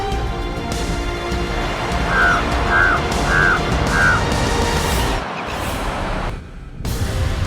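Ravens cawing, a series of four evenly spaced harsh calls at moderate distance, heard over a steady background hum.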